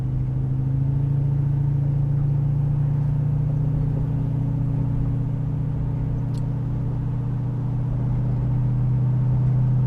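A Hemi-swapped 1971 Dodge Challenger with a Borla exhaust drives along, heard from inside as a steady, moderately loud low engine drone with a deep exhaust tone and no speech.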